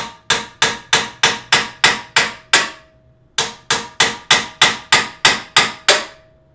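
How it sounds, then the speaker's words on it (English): Sharp, ringing metallic ball peen hammer strikes on metal in a fast, even rhythm, about a dozen blows, a short pause, then another run of blows, loud and close. "And then you just go like this, and just hammer it home."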